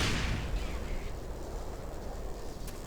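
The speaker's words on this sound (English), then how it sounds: "I think that rocket might have flushed him out" A rocket explodes in Black Mesa with a loud, broad blast right at the start. The boom decays into a rumbling wash and a few faint crackles.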